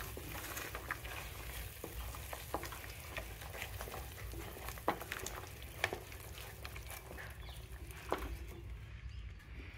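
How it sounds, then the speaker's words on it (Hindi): Matar mushroom curry with curd sizzling in a hot pan as it is stirred, a steady crackling fry with occasional scraping clicks of the spoon, close and continuous throughout. "अब इसको अच्छे से मिक्स कर दो।"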